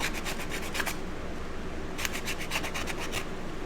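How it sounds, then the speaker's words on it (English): Sandpaper rubs over small geode coaster pieces in quick back-and-forth strokes, heard up close in two rhythmic runs separated by a short pause over a steady background hiss. "Trying not to sand over the other pieces."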